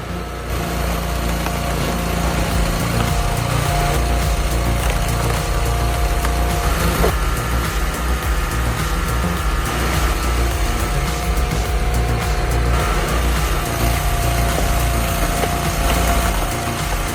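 An 80,000-pound-force gas-powered log splitter works on a 24-inch log, its small engine droning loud and steady throughout with faint creaks and cracks of wood underneath.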